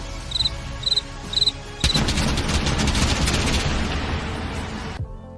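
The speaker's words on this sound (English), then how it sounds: "The Pyrotechnics went off after the tribal chief had already lowered his raised hands." Pyrotechnics firing during a WWE SummerSlam wrestler's entrance: a few sharp high chirps, then a burst of rapid crackling pops and bangs that carries on for about three seconds before cutting off abruptly.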